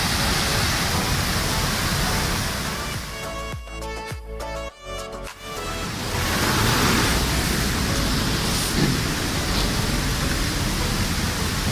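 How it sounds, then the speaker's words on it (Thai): Loud, continuous rushing water roars throughout from a waterfall in strong flow after a storm, a heavy wash with a brief dip in the middle before it surges back. "น้ำตก น้ำไหลแรงมากครับเมื่อคืน เสียงมาฟังเสียงดูก็รู้"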